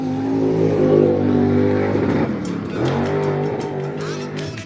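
A dwarf car race engine at I-37 Speedway drones and revs steadily, pitch shifting as it works through a turn, loud and continuous with a faint crackle later.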